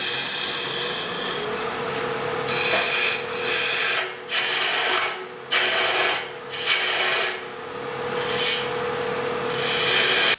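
Eighth-inch parting tool cutting into spinning wood on a woodturning lathe, a loud continuous rasping scrape that surges and drops in several bursts as the tool is fed in and eased off, with no talking.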